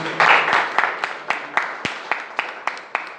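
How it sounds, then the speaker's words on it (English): Audience at a data engineering talk gives a round of applause, a short early swell of clapping that quickly thins to a few sparse, evenly spaced claps from nearby hands. "मेरा ख्याल है round of applause बनती है"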